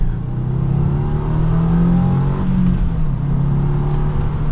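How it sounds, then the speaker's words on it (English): A 2024 Subaru WRX TR boxer engine pulls under acceleration on a test drive, a steady mid-pitched engine drone with rising and falling harmonics, heard from inside the car with road noise. "this Boxer engine still gives you a decent amount of punch, getting up to some speed"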